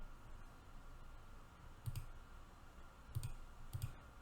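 Three separate computer mouse clicks while editing text in PowerPoint, sharp and close over a faint steady hum, with pauses between them.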